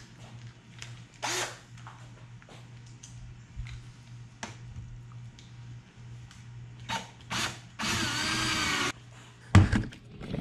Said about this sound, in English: We'll put some screws in there.